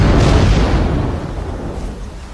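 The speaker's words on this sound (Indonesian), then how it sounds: "tiba-tiba bangunan itu meledak terkena tembakan artileri" A building explodes after being hit by artillery fire in a war film, a loud, deep blast that rumbles and slowly fades over about two seconds.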